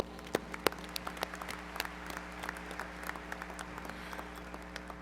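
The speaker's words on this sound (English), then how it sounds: "So, quick round of applause for everyone that's here." Applause at a high school graduation ceremony, with a crowd clapping steadily and at a fair distance in a large space, sharper individual claps standing out.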